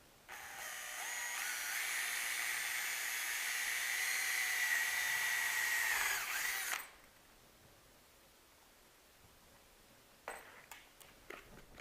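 A power drill bores through Kydex holster material into a scrap piece of wood, a loud steady whine lasting about six seconds before stopping, followed by a few faint handling clicks.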